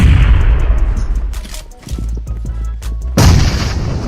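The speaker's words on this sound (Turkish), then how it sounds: "Bomba attım" Loud booming blasts from a bomb going off in a combat video game, with sharp gunfire-like cracks and heavy low rumble filling the short stretch, easing briefly before another burst of noise returns.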